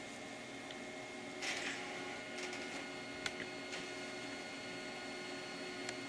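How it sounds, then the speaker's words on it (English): An OKI 711WT printer whirs steadily at low volume, with faint mechanical ticks and clicks as a transfer sheet feeds through. "So we'll just wait for this to print."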